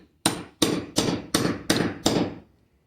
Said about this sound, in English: Just want to drive this cap down so you see that full groove where your clip goes.